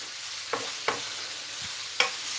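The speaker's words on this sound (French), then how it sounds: "On va faire venir les échalotes en dessous. Comme ça, elles vont fondre." Shallots sizzle gently as they soften in a pan. The quiet, even hiss is punctuated by three or four light utensil taps, and no one speaks.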